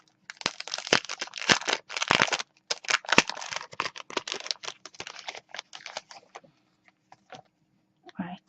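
Crinkling and rustling of old lace paper packaging as it is unwrapped, a dense run of close, crisp crackles and tears that thins into sparse rustles before stopping, with a brief handling sound at the end.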